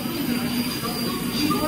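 A Kolkata metro train pulls into a crowded platform with a steady low rumble and hum, loud and continuous, with people's voices mixed in.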